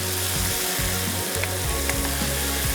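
Garlic, ginger and small green chilli paste frying in a pan for biryani, a steady close sizzle with stirring scrapes and low rumbling bursts throughout, no talking.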